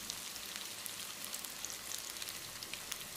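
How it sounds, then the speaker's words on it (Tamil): Idli pieces deep frying in hot oil, a steady, faint, dense sizzle with fine crackling pops throughout and no voices. "இது முழுமையாக ஃப்ரை ஆகிறதுக்கு ஒரு 2-3 நிமிஷம் பிடிக்கும்."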